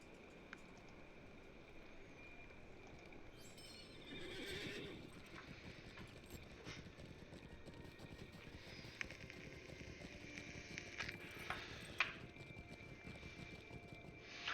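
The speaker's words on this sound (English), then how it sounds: "the horse will literally ride from Thorns Hall all the way to Bree" A horse ridden from Thorin's Hall to Bree in the online game Lord of the Rings Online clip-clops at a steady gait throughout, with a neigh breaking in near the middle over faint wind.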